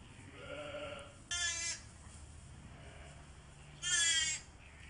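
Lambs bleating on a farm, two short, loud, high cries spaced a couple of seconds apart over a quiet background, with no talking.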